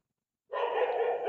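A dog gives a single sustained, sharp bark close by, starting abruptly after a moment of silence and ringing out loud and alone.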